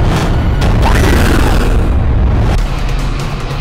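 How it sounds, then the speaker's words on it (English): A loud, rumbling boom fills the air, a sustained roaring blast that slowly fades, with no voices. "Someone blew up their boat."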